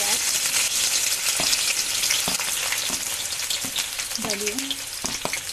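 Onions fry in two spoons of oil in a kadai, a loud, dense sizzle with crackles throughout and a few spoon scrapes, with faint voice traces beneath.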